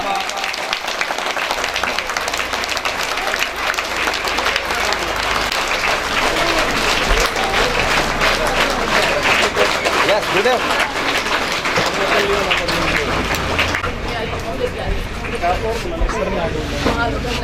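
Loud, sustained applause fills a school retirement function honoring a teacher, a dense crowd clapping continuously for the whole stretch with faint chatter underneath.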